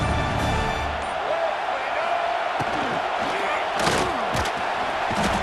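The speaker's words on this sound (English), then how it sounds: "This crowd knows when to bring it." Stadium crowd in the college football video game NCAA 26 at an Arkansas game roars steadily and loudly throughout, with a few sharp surges and thumps rising above the dense, continuous cheering.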